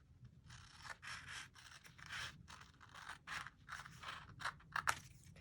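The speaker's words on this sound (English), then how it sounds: "so we're going to cut that right off" Card paper trimmed for handmade card making: a run of rhythmic scissor snips and rasping cuts, fairly close and quiet, with the last few cuts sharper. Nobody speaks.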